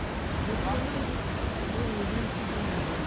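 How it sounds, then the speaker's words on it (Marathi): Steady rushing water roars continuously, a broad even wash of noise from Thoseghar waterfall near Satara, plunging into a deep valley, heard nearby, with no pauses or distinct events. "प्रत्यक्ष आवाज तुम्ही ऐकत असाल, धबधब्याचा पाण्याचा आवाज"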